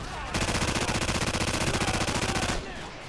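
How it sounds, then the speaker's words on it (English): Call of Duty 4 machine gun firing one long, fast, evenly rhythmic burst of loud close shots that stops abruptly before a quieter tail. "Man, machine guns kick ass"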